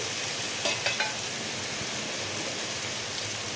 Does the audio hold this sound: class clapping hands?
no